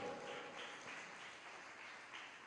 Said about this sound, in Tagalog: Ibigay ang malakas na palakpak sa Diyos.